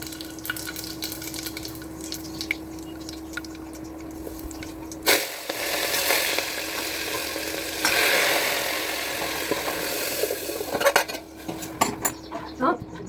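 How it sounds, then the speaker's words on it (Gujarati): Dal is tempered in hot oil in a home kitchen: pots and utensils clank, then a sudden burst of sizzling flares up and crackles for several seconds before fading back into more clattering. "આ દાળ છે વઘારી લઉં પછી ઢોકળી નાખીશ"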